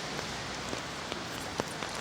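Rain patters steadily on pavement and surfaces during a walk through a street in China, a dense continuous hiss broken by occasional louder drips and splashes, with no one talking.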